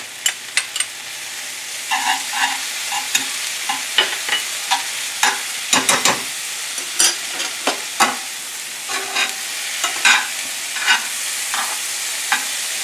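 Finely minced garlic with a pinch of sugar sizzles in a pan for steak with balsamic radicchio, a steady close hiss broken by frequent scraping stirs and clicks of a utensil against the pan, with no talking.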